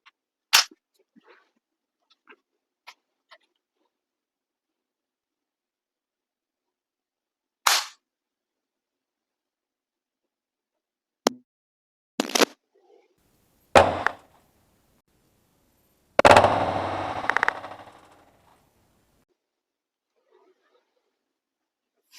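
Sharp, loud snaps of an Umarex HDR 68 revolver firing killer spike rounds into wood, spaced irregularly as several isolated cracks with silence between, the last shot followed by a brief rattling thud.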